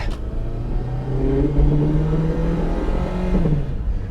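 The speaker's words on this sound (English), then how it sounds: "we're getting it out on the road here, so let's give it the beans and see what she's got" An old Toyota RAV4's 120-horsepower engine revs up and pulls hard, its steady mid-pitched drone rising as the SUV accelerates along a road, close and loud.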